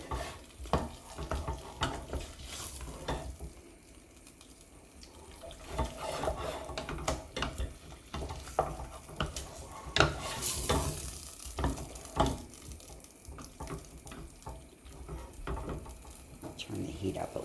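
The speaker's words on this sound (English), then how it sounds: "you have to stay with it and stir it because you don't want it burning or scorching" Tomato and onion soup cooking in a pan bubbles and sizzles softly while a utensil stirs and scrapes against the pan in irregular strokes, with quiet background noise between.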